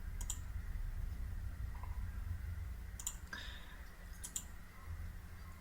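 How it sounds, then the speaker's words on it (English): A computer mouse clicks a few times over a steady low hum, the crisp double clicks coming close and separated by pauses. "You can actually go in and just click remove on each of these things"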